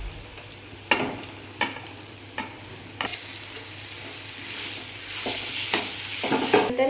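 Mashed potatoes being stirred and fried in a pan, with a steady low sizzle, several sharp scraping strokes of a spoon against the pan, and a denser crackle building toward the end.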